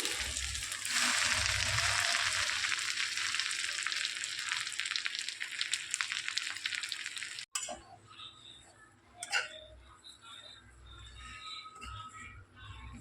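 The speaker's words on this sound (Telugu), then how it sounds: "ఇప్పుడు అదే బాండీలో ఒక 2 స్పూన్లు ఆయిల్ వేసుకొని గోంగూర కూడా వేయించుకోవాలి" Gongura leaves frying in a couple of spoons of oil in a pan on a low flame, a loud steady sizzle for about seven seconds that then drops to faint crackling with a few stirring clinks, no talking.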